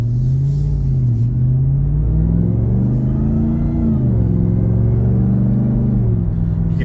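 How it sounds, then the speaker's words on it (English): A supercharged Ram TRX pickup launches off the line, its loud engine roar rising and falling through several close, sweeping pitch changes as it accelerates, heard steadily throughout. "You can hear a little bit of that supercharger whine."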